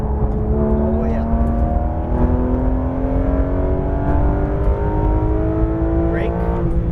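A Porsche GT3 RS 991.2 on the Exotics Racing Las Vegas track pulls hard at full throttle, its engine note climbing steadily through a loud, continuous rising howl, heard from inside the car with a voice speaking over it.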